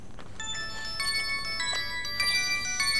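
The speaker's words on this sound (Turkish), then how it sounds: "Bir dakika telefonum çalıyor." A phone's ringtone plays as a bright, high electronic chime, repeating in short tonal bursts over a faint room hum, with no voices.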